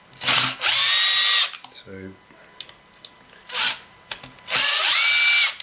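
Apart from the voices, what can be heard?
power drill undoing bolts on a Kirby vacuum cleaner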